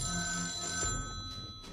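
A phone rings with an incoming call from a security guard, a steady electronic ringtone with sustained tones over low background hum, heard alone.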